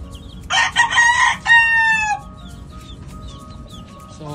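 A five-month-old Sweater Escolin line rooster crows once, loud and close, with a rough start and a drawn-out, falling tonal end, then a quiet yard with a faint cluck at the close.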